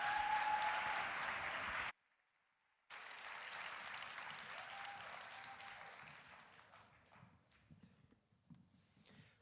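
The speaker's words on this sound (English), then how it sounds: "I'd like to bring out the Peace Poets at this time and give them a round of applause" A conference audience at Beyond the Bars 2017 claps loudly for the Peace Poets. The applause stops abruptly for about a second, then resumes as dense clapping that gradually thins and fades.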